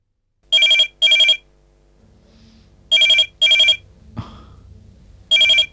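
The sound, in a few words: telephone ringing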